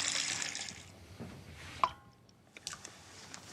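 Water splashes and drips as a needle pushed through a piece of cork drops into a pool, followed by a few small plops and trickles, quiet and close.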